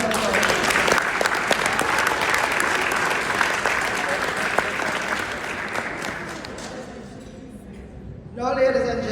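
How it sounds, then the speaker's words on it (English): Loud, sustained applause from a large audience at a CEMEX customer appreciation day that gradually thins and fades, ending with a voice starting to speak near the end. "Give another hand, round of applause."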